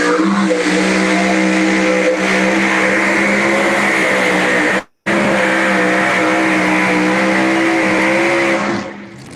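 A loud pulling tractor engine roars and drones steadily at high revs, cutting out briefly midway before resuming, then fading slightly at the end.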